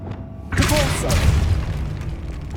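A Depulso spell blast in the video game Hogwarts Legacy lands as a sudden deep boom, then a sustained rumbling roar fades slowly over a steady background bed.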